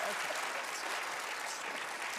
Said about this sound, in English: Give Allison a big round of applause